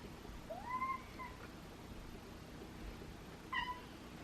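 A cat meows twice, a rising call followed by a shorter one a few seconds later, moderately close against quiet room noise.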